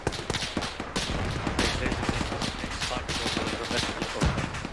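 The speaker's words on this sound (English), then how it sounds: "that's a lot of fire coming out that way" Heavy gunfire in the video game Arma on Altis, a dense stream of overlapping rapid shots and bursts that keeps going without a break, fairly loud, with a voice talking briefly over it.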